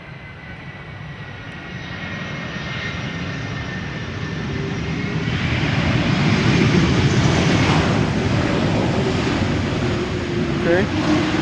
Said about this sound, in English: This is Delta Airlines Flight 162, arriving from Minneapolis, Minnesota, A330-300.